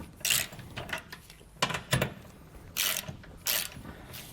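A hand ratchet tightening shoulder bolts on a leaf spring hanger while installing a Roadmaster Comfort Ride suspension on a 2022 Jayco Eagle trailer, heard as several short close clicking bursts with pauses between them.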